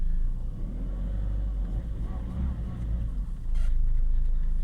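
A car engine rumbles at a low idle during a gear-shifting lesson, then swells louder near the end as the revs rise, with a voice speaking over it.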